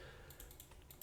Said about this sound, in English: Sorry if you can hear the mouse clicks in the background.